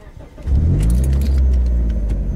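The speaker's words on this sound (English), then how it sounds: "in order to start the car, we have to depress the clutch all the way to the floor, and then turn the ignition to the on switch" A manual-transmission car's ignition key is turned and the engine cranks and catches, settling into a steady close idle rumble after a brief jingle of keys.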